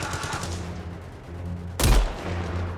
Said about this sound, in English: give me some covering fire